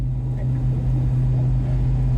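A car drives along a road toward Florence, South Carolina, with a steady low engine and road drone heard from inside the cabin. The drone is continuous and even, and no one speaks.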